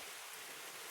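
Light rain falls outdoors on a cold day in West Virginia, a soft, steady hiss of drops that is faint and continuous with no other sounds.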